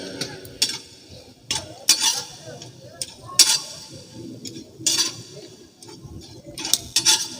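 Repeated scraping and clinking of a utensil stirring herbs roasting in a pan, in irregular bursts over a soft background hiss, close by.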